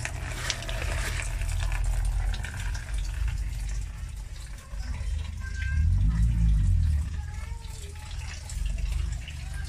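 Coolant rushing steadily through the cooling system of a Suzuki Every wagon with the radiator cap off, a continuous watery gush that swells louder midway, with no talk.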